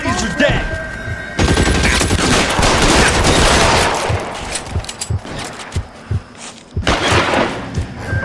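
Gunfire bursts in the PC game L.A. Noire during a house standoff, a loud dense volley followed by scattered single shots and a later burst, mixed with game noise.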